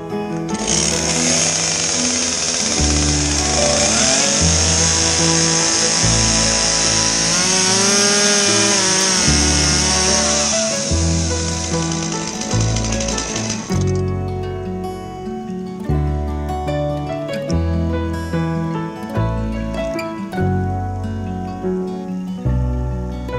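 A Stihl MS170 chainsaw with a freshly changed bar runs close by, its engine screaming high and steady for several seconds before dropping back to a choppy, rhythmic idle that carries on to the end.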